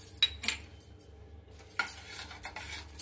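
Spoon stirring ginger garlic paste into a pot of okra masala curry, with several metallic scrapes and clinks against the pot over a faint low simmer.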